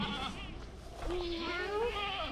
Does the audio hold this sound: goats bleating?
yes